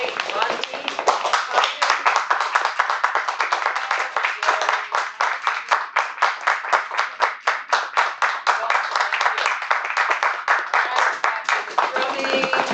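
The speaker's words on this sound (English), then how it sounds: "we're gonna drum roll and clap" An audience at a Toastmasters meeting claps steadily and loudly for over twelve seconds, a dense, continuous patter of many hands with rhythmic pulses.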